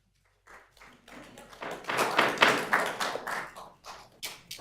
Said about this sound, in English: Please don't clap or cheer during our meetings.